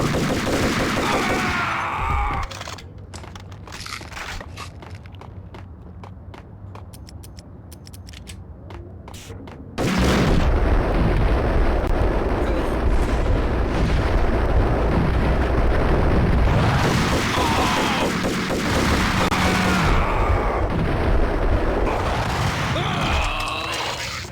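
Grenade explosion and gunfire in the Max Payne video game: heavy booming blasts and dense bursts of shots, with a quieter stretch of rapid mechanical clicking before the loud combat resumes.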